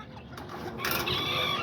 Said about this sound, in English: You can see that's already 4 hens right there that are brooding